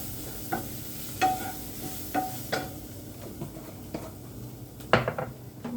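Onions sauté in a pan with salt and turmeric, a soft sizzle under repeated clinking of a spoon against the pan, with several sharp scraping stirs spaced across the clip and no talking.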